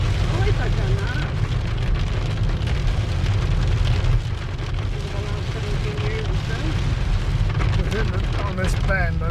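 Heavy rain pouring steadily onto a car during a drive near Combe Martin, a dense, loud, continuous hiss under people talking.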